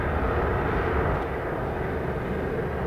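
Steady, loud roar of an F-15E Strike Eagle jet, up to about 90,000 pounds, flying in the DCS flight simulator, a broad continuous rumble that holds evenly throughout with no talk.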